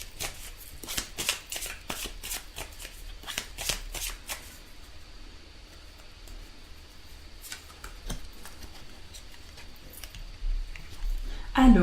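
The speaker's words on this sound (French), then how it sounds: "on va tirer une carte conseil pour vous" Tarot cards are shuffled to draw an advice card, giving a rapid run of crisp riffling and flicking sounds in the first few seconds, then quieter sporadic card handling and a final shuffle near the end.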